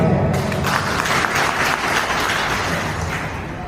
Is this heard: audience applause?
yes